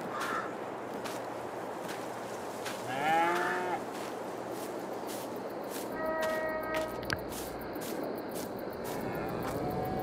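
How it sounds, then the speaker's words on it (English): Cattle moo in Farming Simulator 22 on a Polish farm, two or three drawn-out lowing calls over a steady ambient field background with a faint tonal chime, no talking over them. "We got a dozen cows now."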